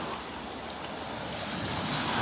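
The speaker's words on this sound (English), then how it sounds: "So right where the waves are breaking." Surf washing onto a beach in North Naples, Florida, makes a steady broadband rush that swells louder near the end, with some wind noise mixed in.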